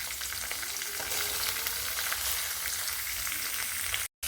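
Chopped onions and curry leaves fry in a pan with a constant dense sizzle close up, a few light stirring scrapes, and a brief cut to silence at the end.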